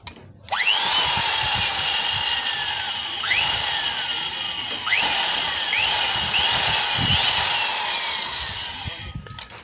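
A power drill with a 6.5 mm bit drills into a stripped bolt hole, running steadily and loudly for several seconds, its whine rising briefly at a few points as the bit bites, with no talking.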